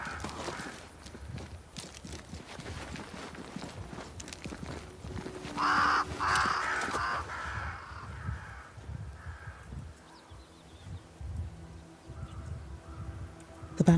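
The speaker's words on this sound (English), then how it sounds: "Crows. They flock to that great tree up there." Crows cawing around a great tree in a dark fantasy action game, harsh repeated caws over ambient game sound, with footsteps and a burst of louder calls midway.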